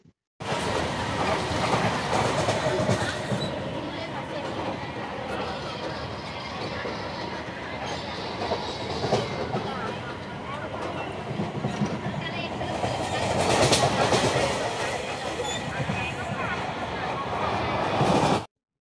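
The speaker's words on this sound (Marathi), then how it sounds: "कर्जत ही ट्रेन पकडली, कर्जतला जाणारी" A crowded local train bound for Karjat rumbles and clatters steadily throughout, with rail noise, rattling carriages and occasional wheel squeal, while voices murmur underneath.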